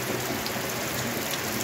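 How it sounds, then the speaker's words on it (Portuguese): Heavy rain falls on a rural homestead in Paraíba, a dense, steady hiss of drops on surfaces with no talk. "Muita chuva aqui, viu?"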